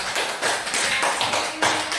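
A class claps together in a few loud, unison bursts that land close and strong over a continuous clatter of hands.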